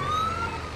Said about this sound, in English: one of the bikes got their siren on still.